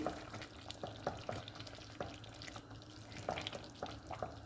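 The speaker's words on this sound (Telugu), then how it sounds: "టమాటాలని ఇలా కలుపుకుంటూ ఉడికించుకోవాలి." A spoon or spatula scrapes and knocks in a pan as tomatoes are stirred while cooking for tomato chutney, with repeated irregular clatters over a soft simmering sizzle.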